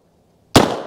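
A .22 Magnum rifle fires a single CCI Maxi-Mag round, one sharp, loud, close report after near silence, followed by a short decaying ring.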